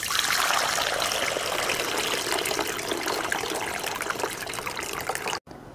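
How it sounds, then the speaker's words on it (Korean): Water pours steadily into a bowl while water kimchi is being made, a continuous close splashing trickle that tapers off and stops near the end. "요 볼에다가 요 물을 이렇게 따라주세요."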